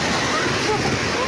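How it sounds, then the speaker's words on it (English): Tsunami waves hitting the Tonga coast near Nuku'alofa, a continuous churning wash of water and surf, moderately loud and unbroken, with faint splashing texture throughout. "Tongans are on the beach to film the first waves hit the coast."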